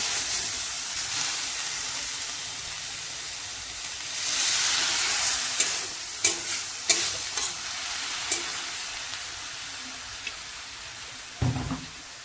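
Bitter gourd frying in a pan as small splashes of water are added, giving a steady close sizzle and hiss that swells into a louder steamy burst midway, with light stirring clatter and a few sharp spatters near the end.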